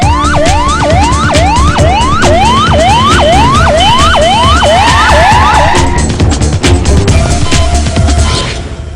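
A loud ambulance siren from the 108 emergency service wails in fast repeating rising sweeps over steady road noise, then stops and fades out near the end.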